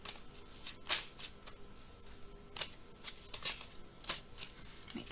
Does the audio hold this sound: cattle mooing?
no